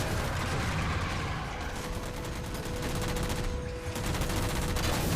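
Dense enemy gunfire in a Halo shooter mission against an Elite, rapid continuous bursts of automatic weapon fire layered over steady battle noise, loud and unbroken for the whole stretch.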